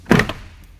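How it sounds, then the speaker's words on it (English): The plastic interior door panel of a 2019 Toyota Tundra pops loose at the bottom with one sharp, close thunk and a brief rattle. Then it goes quiet. "The only thing we have to do is pop the bottom of the door panel back off."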